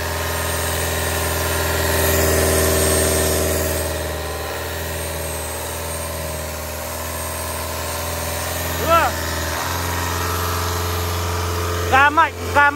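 Kubota V2403 diesel engine from a DC70 machine running steadily under throttle, a continuous low droning hum with stable harmonics, with a few brief chirping sounds near the end.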